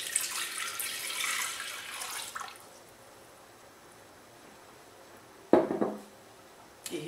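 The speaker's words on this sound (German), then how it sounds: "Als erstes geben wir das Wasser in den Thermomix." Cold water pours steadily into a Thermomix bowl for about two seconds, then a short loud splash and some dripping follow, close by and with no talking.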